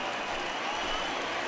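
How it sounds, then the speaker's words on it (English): A stadium crowd in MLB The Show 20 cheers and applauds a departing pitcher, a dense, continuous roar of clapping and voices with no breaks. "this home crowd likely to give him a standing O as he departs with the shutout in check"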